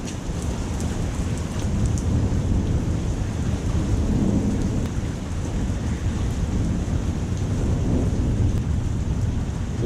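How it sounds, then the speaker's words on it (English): Heavy thunderstorm with constant rain and low rolling thunder rumbling steadily and loud throughout, with a gusty wash of wind and no speech. "This has to be like the most frequent lightning I've ever seen. It's constant."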